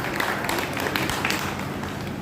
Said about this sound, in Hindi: जोरदार तालियां प्रेम लता के लिए होनी चाहिए